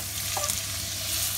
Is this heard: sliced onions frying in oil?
yes